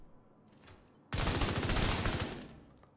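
An AUG assault rifle fires in The Division 2, a loud, sustained burst of rapid automatic shots that starts abruptly and runs for over a second before tailing off, with no voices over it.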